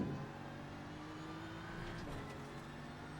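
Turbocharged mid-engine Ferrari 296 racing in a driving game, a steady engine drone with a rising whine that holds at moderate level, with no voices.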